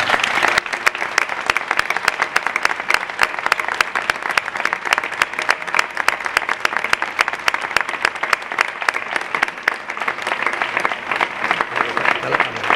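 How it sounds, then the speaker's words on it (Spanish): Sustained, dense applause from a large audience for the band at a church event during the Día de Jesús evening celebrations, loud and steady for the whole stretch with a few voices mixed in. "pido un fuerte aplauso a los protagonistas verdaderos de esta noche"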